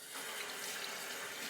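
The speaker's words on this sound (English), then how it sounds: "a quick dip of the brush tips to add water, which I just did" Shaving brush tips dipped into a cup of water, giving a steady, close trickling splash that runs unbroken through the moment, with no voices.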